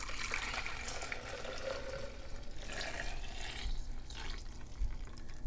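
Homemade almond milk pours from a juicer cup with a spout, a soft, close liquid stream trickling quietly with small splashes and no talking.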